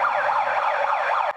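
A loud emergency siren wails in rapid rising and falling sweeps, sounding continuously to signal an evacuation drill at a children's health camp building.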